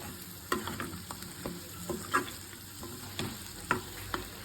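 Spiced mutton pieces sizzle in a pan while a spoon stirs and scrapes through them, giving a steady frying hiss dotted with a dozen sharp knocks and clicks against the metal.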